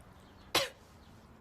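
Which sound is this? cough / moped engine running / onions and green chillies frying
cough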